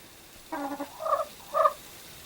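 Bunty the hen gives a few short clucking calls, a quick burst followed by two separate rising vocalizations, close and clear against a quiet background.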